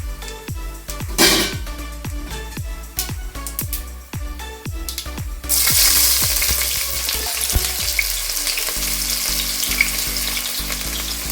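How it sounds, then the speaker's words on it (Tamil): Sliced onions hit hot oil in a pan for mushroom thalappakatti biryani, a loud close burst of sizzling that settles into a steady hiss after a series of sharp clicking taps. "ஆனியன் நல்லா வதங்கட்டும்"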